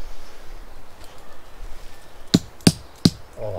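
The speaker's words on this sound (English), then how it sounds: "Oh, that's straight into a rock." A 4WD vehicle on an off-road trail near Christchurch, New Zealand strikes rocks: three sharp, loud knocking thuds about a third of a second apart, standing out against a quiet rustling background.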